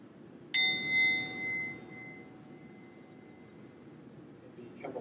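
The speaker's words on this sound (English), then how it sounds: "And in a few seconds, the bell will ring." A meditation bell is struck once, ringing out clearly with a bright metallic tone that lingers and slowly fades over a couple of seconds, then quiet room tone remains.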